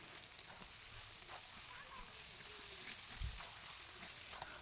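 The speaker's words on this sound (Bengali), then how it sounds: "এখানে আদা আর রসুনটাকে ভালো করে আমি মাংসের সাথে এভাবে আমি কষিয়ে নিচ্ছি" Goat meat with ginger, garlic and chopped tomato sautéing in a pan, a soft, continuous sizzle with a brief low thump of stirring partway through.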